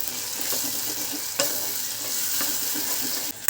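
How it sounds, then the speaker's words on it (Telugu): Ginger garlic paste frying in a pan gives a steady, close sizzle, broken by a few sharp scrapes and taps of a spoon stirring, with no talking. "ఇప్పుడే అల్లం వెల్లుల్లి పేస్ట్ చేశానండి. ఫ్రై అవుతుంది."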